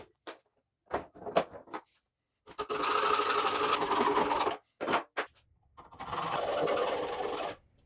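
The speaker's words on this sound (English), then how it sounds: "So I'll mark this and cut it." Power saw cutting a 1/2 inch threaded rod in a woodshop while building a table saw bowl-making jig: two sustained loud cutting bursts of a few seconds each, separated and preceded by short knocks and handling clatter.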